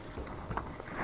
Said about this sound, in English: Listen, footstep behind.